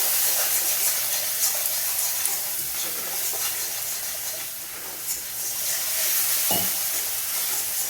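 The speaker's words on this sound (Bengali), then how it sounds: "ধনে জিরে গুঁড়ো একটুখানি দিয়ে দেবো, দিয়ে মশলাটা ভালো করে ভাজবো" Ground coriander and cumin spice mix, with Kashmiri chilli, frying in a pan for a raw jackfruit kofta curry: a steady, close hiss and sizzle throughout, with one brief scrape of a utensil near the end.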